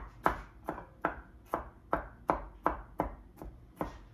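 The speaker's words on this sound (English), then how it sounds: "So I went ahead and peeled the garlic, and I am just roughly chopping it." A knife roughly chops peeled garlic with about nine steady, evenly spaced strokes, each a close, crisp knock on the board, with no talking.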